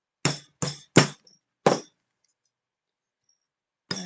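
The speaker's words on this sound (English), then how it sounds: "I tighten up my disc punch, and I'm doing the 1/8 inch hole right now." A disc punch struck to cut a 1/8 inch hole in thin metal for dangle earrings: four sharp, close metallic clanks in quick succession, then silence and one more strike at the end.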